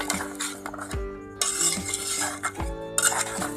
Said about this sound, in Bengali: এখন আমি মাংসটা আরো কিছুক্ষণ ভালোভাবে মশলার সাথে কষিয়ে নিব